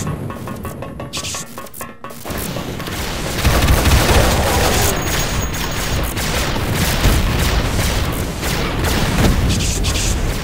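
Explosions in the shooter game Duke Nukem 3D (EDuke32 port, level E4M9 Derelict): loud, dense booms and rumbling blasts mixed with clattering game effects, continuous throughout, with no talking.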